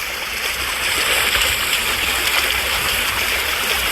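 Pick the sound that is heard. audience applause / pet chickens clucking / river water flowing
river water flowing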